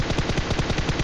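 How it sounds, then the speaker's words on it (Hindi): An M4 rifle is sprayed in full-auto fire in PUBG Mobile, with a rapid, steady, loud stream of shots that fills the whole moment. "मैंने निकाली अपनी M4, लेटा"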